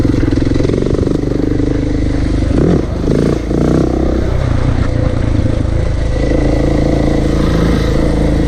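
A dirt bike rides along a dirt road through the Daintree in Cape York, Australia, its engine droning loudly and steadily with rattling clatter from the rough surface.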